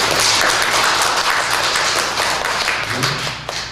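A church congregation at a Sunday service applauds loudly, dense sustained clapping from many hands filling the room, tapering slightly near the end.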